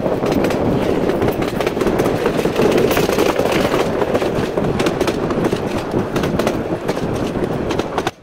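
A train rolls into Fatullah railway station on a dual gauge line near Dhaka, a loud, continuous rumble with rhythmic clickety-clack of wheels over rail joints, heard from on board.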